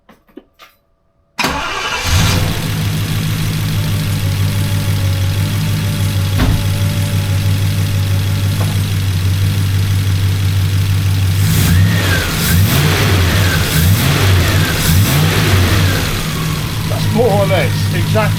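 A Triumph Stag Mk1 V8 with Stromberg carburettors cranks and fires, settling into a loud, steady idle close by. Later come several rising and falling revs, with a voice talking briefly over the engine.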